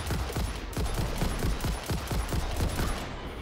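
Rapid automatic gunfire from the factory-building game Satisfactory, a dense fusillade of shots fired in quick succession throughout, loud and steady with no talking.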